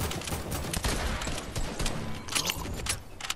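Rapid video-game gunfire crackles in dense bursts with sharp clustered shots, loud and close, over a busy layered background.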